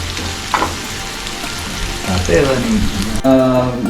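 Onion, green chilli and ginger sauté in a pan for a beef curry, a steady sizzle with scattered pops and stirring scrapes, while a voice talks over it toward the end.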